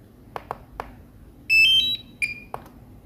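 DJI RC-N1 drone controller powering on: a few short clicks, then a loud rising electronic beep melody, followed by another brief tone and a click, all close and clear in a quiet room.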